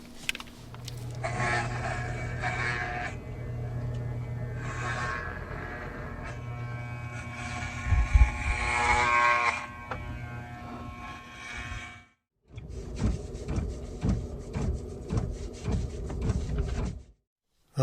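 Electric clippers buzz continuously while trimming at a campsite in the Arizona desert, a close steady hum that shifts in pitch, then stops briefly before resuming in short choppy bursts, with no talking.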